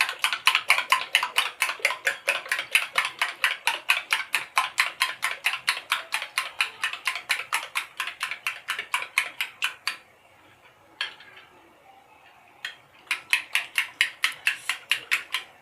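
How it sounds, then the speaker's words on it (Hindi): Eggs for a chocolate cake beaten with a spoon in a bowl, a fast, even run of light tapping clicks close by that pauses briefly, then resumes. "अगर एग बीटर नहीं है तो आप इसको चमचे से भी कम से कम 10 मिनट तक फेंटेंगे"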